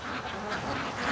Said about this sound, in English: Now there is a whole bunch of ducks over by the hedge